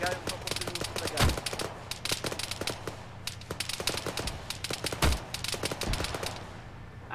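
Rapid gunfire rings out in the military shooter Arma 3, dense crackling shots and bursts with a couple of heavier booms, spread across the whole stretch while players talk over the radio.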